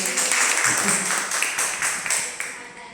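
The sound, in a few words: audience applause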